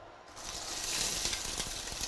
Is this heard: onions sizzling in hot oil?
yes